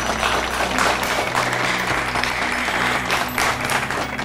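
An audience at a devotional quiz show applauds loudly and continuously, a thick sustained clapping with a low musical hum underneath.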